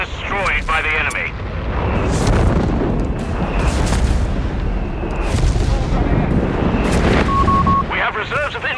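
Artillery in the video game Company of Heroes 3 pounds continuously in heavy booming blasts and rumbling explosions, loud and close, with soldiers' voices shouting over the barrage.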